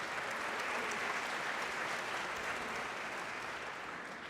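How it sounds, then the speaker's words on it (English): A debate audience claps in a thick, continuous wash of applause that holds steady throughout and eases slightly at the very end. "Still willing to clap practically anything"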